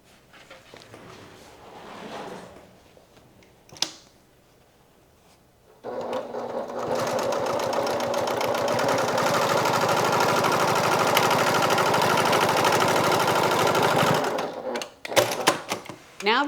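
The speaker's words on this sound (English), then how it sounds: "we're going to stitch the top closed" A sewing machine runs at an even pace for about eight seconds, stitching the top of a crossbody bag closed with a rapid mechanical whir. A few brief knocks come before and after.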